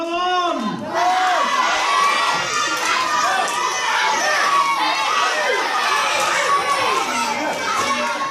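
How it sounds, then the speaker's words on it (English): Wrestling crowd at a £2,000 beat-the-champion challenge, full of young voices shouting, jeering and cheering loudly and continuously, with individual shrill cries standing out above the din. "Crowd are very much against Jay Vertigo"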